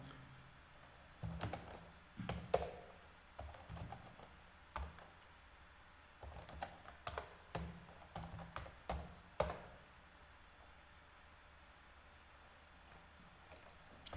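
Computer keyboard typing a terminal command, short bursts of quiet clicking keystrokes with pauses between them in a calm room.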